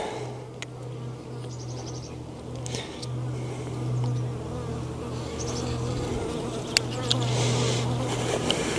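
Honey bees buzz around an open hive during an inspection, a steady dense hum up close with individual bees droning past.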